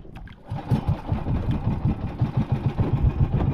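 A steady, low boat engine chugs with a regular pulsing beat, fairly close and continuous after a brief quieter start.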